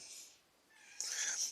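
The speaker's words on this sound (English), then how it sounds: "but when I do hear about Mandela, that was my cat." A house cat gives two short meows, the second louder and brighter, close by against a quiet indoor background.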